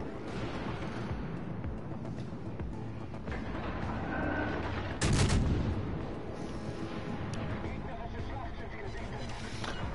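Heavy naval guns in a World War II naval video game fire at an enemy destroyer. A single loud boom stands out in the middle over a steady rumble of engine and sea noise, with talk nearby.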